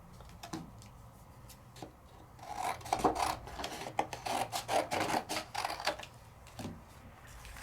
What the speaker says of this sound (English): and I cut a piece of paper,